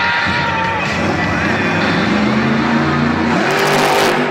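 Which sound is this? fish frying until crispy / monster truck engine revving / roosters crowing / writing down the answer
monster truck engine revving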